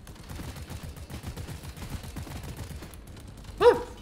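Rapid gunfire from a video game burst repeatedly as a creature is shot, a dense run of shots for about three seconds, then a sharper, louder blast near the end.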